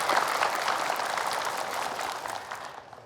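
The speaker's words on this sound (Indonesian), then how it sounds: "Boleh tepuk tangan lagi Ibu." Studio audience at an Indonesian religious talk show claps together, a dense burst of applause that stays even for about three seconds before fading out.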